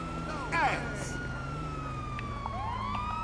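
A police siren in GTA 5 wails in rising and falling sweeps behind a steady engine drone, with a brief voice near the start.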